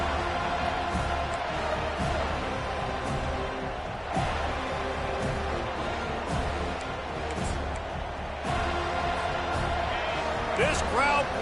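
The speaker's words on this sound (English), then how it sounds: "This crowd bringing the energy and noise early." A roaring stadium crowd fills an EA college football video game broadcast, a continuous loud wash of cheering that swells now and then, under a commentator's voice.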